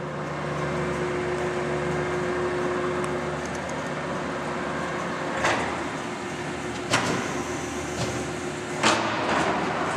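A heavy duty American 19 x 64 inch lathe running at 110 RPM, giving a steady mechanical hum with a faint tonal whine, plus a few soft knocks or clunks near the end.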